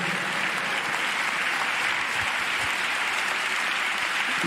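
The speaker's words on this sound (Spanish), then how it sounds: "¿Cuántos dan un aplauso al Señor?" A church congregation at a Spanish-language evangelical service applauds together, a dense, steady wash of clapping that holds evenly throughout, fairly close and full, with no talk over it.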